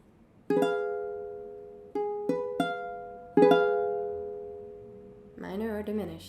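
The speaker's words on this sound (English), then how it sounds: "This one is diminished." A diminished chord played on a keyboard instrument, struck several times with ringing sustained tones and uneven rhythm, followed by speech at the close.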